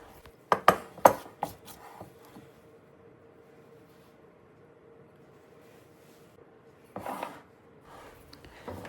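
Spatula mixing wet and dry hot cross bun dough in a bowl, a burst of close knocking and scraping strokes, then quiet, then another brief scraping flurry, with no speech.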